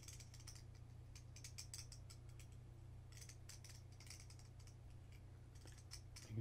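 Two plastic poker-style chips clicking as they slide over each other, a soft, rapid patter of small clacks in irregular bursts, close and quiet against a steady low hum.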